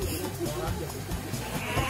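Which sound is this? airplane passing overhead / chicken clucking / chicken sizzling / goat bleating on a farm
goat bleating on a farm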